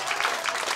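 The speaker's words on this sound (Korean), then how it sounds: "박수만 더 주세요." Audience clapping after an evening janggu drum performance at a chrysanthemum festival, a steady dense patter of many hands, moderately loud and continuous for the whole moment with no voices over it.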